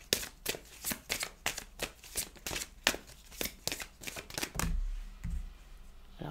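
Tarot cards are shuffled in quick, rhythmic riffles, a steady run of close crisp flutters and slaps ending in a soft thump as a card jumps out, with no voice.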